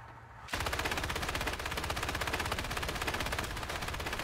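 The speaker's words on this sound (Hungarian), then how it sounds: "Ez az, gyere lőj ki!" Rapid machine gun fire in the War Thunder video game rattles off in a dense, even burst that starts abruptly and keeps going loud for several seconds with no talking.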